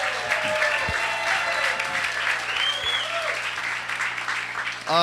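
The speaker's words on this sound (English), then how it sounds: "Let's give her a real round of applause." Applause from a surf event audience at Turtle Bay Resort honoring Jodi Wilmott, a steady dense round of clapping filling the room for several seconds, with faint voices mixed in.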